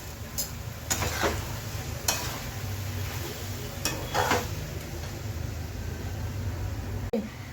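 Cooked fenugreek and potato bhaji is scraped from a pan onto a plate, with a few sharp spoon-on-metal scrapes and clinks over a steady low background hum, fairly quiet and without talk.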